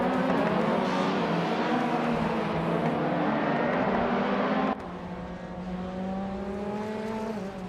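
Race car engines roaring in a racing video game, a loud, sustained whine that shifts pitch as the cars accelerate and change gear.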